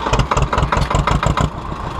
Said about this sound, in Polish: Teraz pokażę, jak to działa na zapalonym ciągniku.